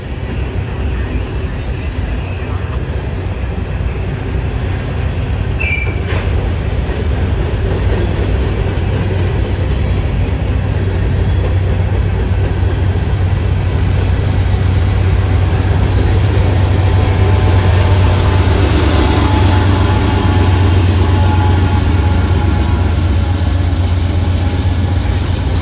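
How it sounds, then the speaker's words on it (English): A freight train with a DPU locomotive passes a railroad crossing, a loud continuous rumble of wagons with low engine drone swelling toward the end, close by and steady for the whole stretch. "That DPU sounds really good."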